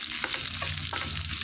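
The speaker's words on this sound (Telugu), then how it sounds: "ఇందులోనికి ఎండుమిర్చి కూడా వేసుకొని వేయించుకోవాలి" About twenty dried red chillies fry in a pan for an amla coconut chutney, a loud continuous close sizzle with brief stirring scrapes and no voices.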